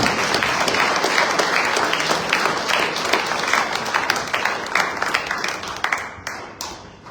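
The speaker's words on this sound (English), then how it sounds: "please give her a round of applause" An audience at a livestreamed year-in-review event bursts into loud, dense applause that gradually loosens into scattered individual claps before fading out.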